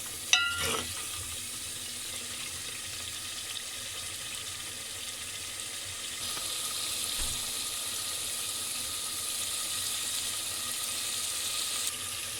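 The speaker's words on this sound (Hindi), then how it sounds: "साथ साथ थोड़ा थोड़ा पानी शामिल करके इसको पकाते रहेंगे 10 मिनट तक।" Chicken korma and potatoes cook in a pan with a little added water, giving a steady soft sizzle and bubbling hiss that brightens partway through, with a brief clatter at the start and no talking.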